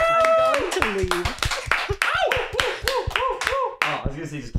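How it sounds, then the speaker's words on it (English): A few people clap in a lively, informal group setting, quick scattered claps mixed with chatter and laughter, voices speaking over them throughout. "Round of applause. Just applause."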